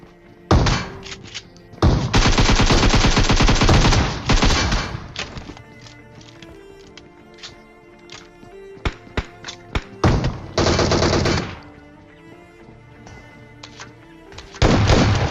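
Shotgun fire crashes through a fight inside a small hut in a video game, heavy booming blasts in rapid bursts with thuds between, loud and close.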